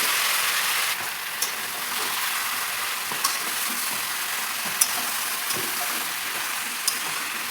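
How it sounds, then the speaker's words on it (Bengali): Marinated chicken fries in a little oil in a pan, giving a steady, close sizzle with a few sharp clicks and taps scattered over it. "এতে আমি তেল দেবো, তারপর হচ্ছে চিকেনটা দেবো।"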